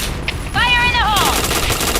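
Gunfire in a shooting video game crackles loudly in a sustained burst, with a rising electronic tone layered over the first shots and dense rapid fire continuing to the end.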